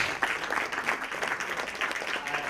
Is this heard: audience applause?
yes